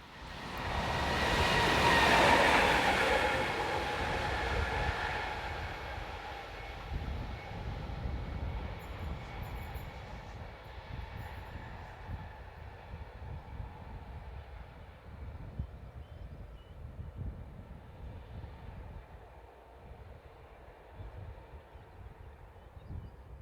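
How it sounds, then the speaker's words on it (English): RBH locomotive 145040 passes heading north, a loud rumble and rush that swells early and then fades gradually into a lingering rolling drone as the train moves away. "RBH's 145040 heads north."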